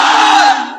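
A large gathered crowd at an Islamic sermon on life after death roars a unified takbir, 'Allahu Akbar', loud and close, the massed shout holding for about half a second before trailing off.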